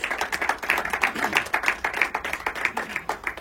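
An audience at a stage event with the Maharashtrachi HasyaJatra cast claps for actor Vijay Patkar, a dense, steady patter of many hands in a quick, even rhythm, loud and close.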